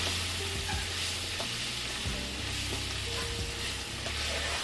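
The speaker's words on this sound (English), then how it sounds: "we wanna cook the flour into the meat." Flour being cooked into browned sausage in a pan for sausage gravy, a soft continuous sizzle with occasional low scraping and stirring knocks, fairly quiet and without voices.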